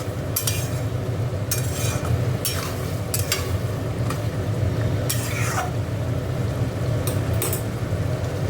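Minced meat sizzles steadily in a pan while being stir-fried for khichuri, with a constant frying hiss and several brief scraping and clinking stirs over about eight seconds.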